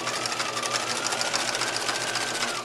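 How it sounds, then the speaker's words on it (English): A sewing machine runs steadily and close by, edge stitching near the casing of a pajama pant, its fast even hum continuous and unbroken throughout, with no voices. "you want to stitch very close to the casing. Back stitch there"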